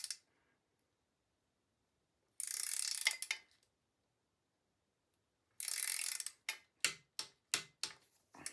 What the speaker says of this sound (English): we apply the final torque using my torque wrench to make sure those stem bolts are secure